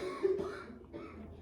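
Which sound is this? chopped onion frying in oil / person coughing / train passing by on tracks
person coughing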